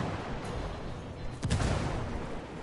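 A frag grenade going off in a jungle combat video game: a short, muffled blast about halfway through breaks a steady background hiss, moderately loud and not very close.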